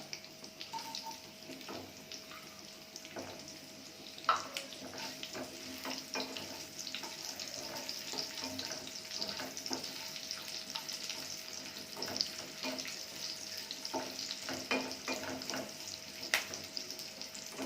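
Garlic, curry leaves and dried chilies fry in hot oil with a continuous soft sizzle, a few scattered clicks and stirs on top, close and without talk.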